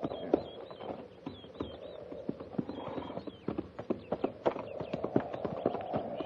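Cavalry horses walking at a halt beside a creek on the frontier, hooves clip-clopping in a steady, fairly close rhythm, with other hoof knocks scattered underneath.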